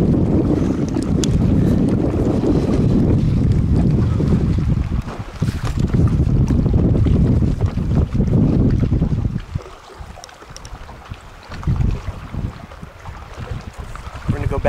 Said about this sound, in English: we got some good wind action